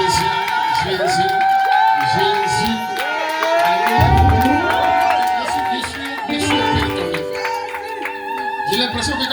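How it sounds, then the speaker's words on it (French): A church congregation in Bonoua cheering and acclaiming during a Sunday service, loud whoops and shouts over a dense crowd roar, with music-like tones and voices throughout. "J'ai l'impression que quand il s'agit d'acclamer Jésus, c'est différent"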